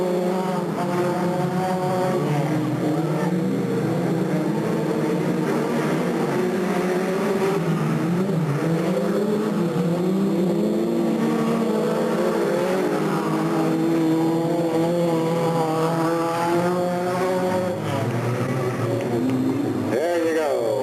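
Modified race cars roar around a speedway on the final lap, engine notes rising and falling as they pass, with an announcer talking over the steady racing din.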